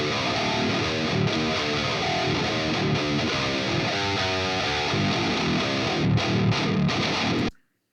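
A heavily distorted 8-string electric guitar plays a djent-style tone with a Strat, chugging palm-muted riffs and syncopated low notes, loud and dense, cutting off abruptly at the end.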